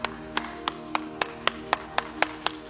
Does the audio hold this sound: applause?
yes